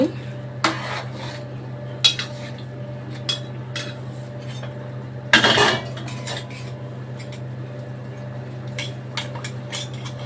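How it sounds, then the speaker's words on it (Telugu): A spoon stirs curry in a metal pot after water is added, giving scattered scraping clinks against the pan, with one louder clatter midway, over a low steady background hum. "వాటర్ పోసుకున్నాక కలుపుకోవాలి."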